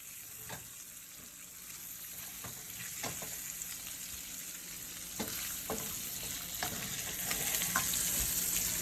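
Sausages for gumbo sizzle and crackle steadily in a hot pan, with occasional clicks and scrapes of a utensil stirring them. No talking.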